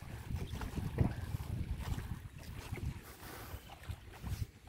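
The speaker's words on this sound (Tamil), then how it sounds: "அலை சத்தம் உங்களுக்கு நல்லாவே கேட்கணும் நினைக்கிறேன்." Small waves lapping on the open water of Chembarambakkam lake near Chennai, a steady low washing rumble with gusts of wind buffeting the microphone, no voices.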